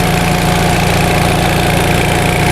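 A 1945 Onan generator engine running loudly up close with a steady throbbing pulse, its speed sagging from a governor fault while it burns a little oil.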